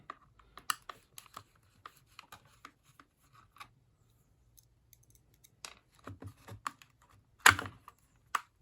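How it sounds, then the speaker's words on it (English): Screws come out of a Gtech Pro vacuum cleaner during a brush bar repair, with quiet close ticking, clicking and small plastic rattles and a sharper clatter near the end. "I've got two more screws here. I'm going to take them out to see what's behind them"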